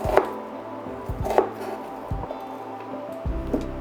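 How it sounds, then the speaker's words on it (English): Knife strokes slicing lion's mane mushroom into thin slices on a board, with about four crisp separate taps at an unhurried rhythm, close and clear, and no talking. "we're just, putting thin slices"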